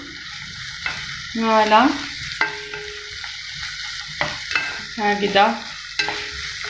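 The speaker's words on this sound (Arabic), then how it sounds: "نقلي نزيد نقلي الفلفل مع الثوم." Peppers and garlic fry in a pot while being stirred, giving a steady sizzle broken by scraping utensil strokes and squeaky pan sounds at close range; a voice speaks briefly.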